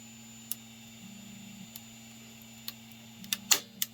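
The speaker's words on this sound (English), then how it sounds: "you can hear the prints releasing." Sparse sharp ticks and cracks from prints releasing off the glass bed of an Ender 3 S1 3D printer, scattered over a quiet humming background, a louder cluster near the end.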